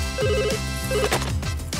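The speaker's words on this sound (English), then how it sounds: "The phone's ringing." A telephone rings in two short electronic trilling bursts over a steady backing tone, close and clear, with no voices.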